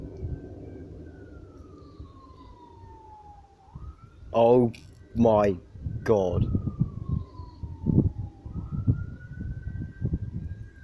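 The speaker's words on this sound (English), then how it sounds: "I can actually hear police sirens." A distant police siren wails slowly, rising and falling in long sweeps beneath nearby voices that exclaim and talk over it.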